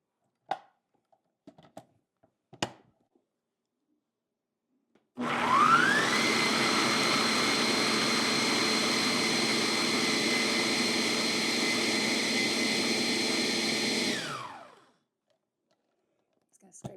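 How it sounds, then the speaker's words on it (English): Food processor whirring steadily for about nine seconds as it chops fresh herbs and ingredients for homemade falafel, a loud continuous motor drone that starts abruptly and winds down, with a few brief knocks before it begins. "we're just gonna run this for a few seconds to get everything chopped up"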